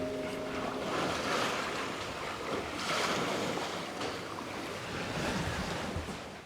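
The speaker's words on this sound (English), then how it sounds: "For me, the best part of the trip is when they switch the engines off and put the sails up," Waves and wind around a sailing boat at sea off Türkiye with the engines off, a steady rushing wash of water with gentle surges and some wind noise on the microphone, no voices.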